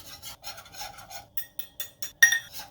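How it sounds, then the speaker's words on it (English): A whisk scrapes and stirs a butter-and-flour roux browning in a pot for cheeseburger soup, giving quick rasping strokes in short bursts, close up with no talking. "I'm gonna use a whisk and stir it up, and we're gonna brown this roux till it kind of looks like peanut butter"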